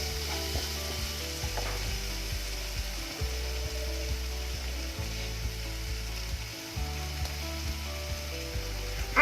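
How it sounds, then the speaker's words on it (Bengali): Maggi noodles being mixed with masala in a frying pan: a soft, steady sizzle under repeated rhythmic scraping and clacking of a utensil against the pan, quiet and close, with no talking. "এবার ভালো করে মশলার সাথে মিশিয়ে নেব।"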